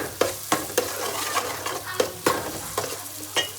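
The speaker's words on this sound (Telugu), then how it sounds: "మధ్యలో కొంచెం ఇట్లా ఫ్రై చేసుకుంటా" Close sizzling from a pan during home cooking, punctuated by sharp, regular spatula scrapes and knocks roughly every half second as the food is stirred, with no one speaking.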